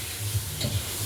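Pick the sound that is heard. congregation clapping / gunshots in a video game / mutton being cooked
mutton being cooked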